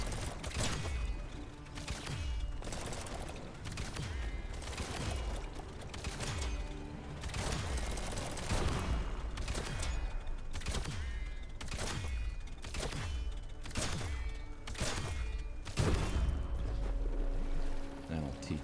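Gunfire in the Biomutant video game, a long series of sharp repeated shots and impacts at an irregular rhythm over steady game background noise, loud and close throughout.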